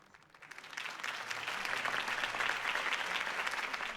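Crowd applause at a political campaign rally in a Batman video game, quickly swelling from quiet into sustained, dense clapping that holds steady and fairly distant to the end.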